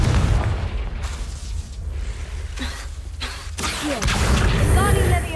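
Confringo fire spells from Hogwarts Legacy burst repeatedly, with several booming explosions and crackling blasts over constant combat noise and short spoken incantations.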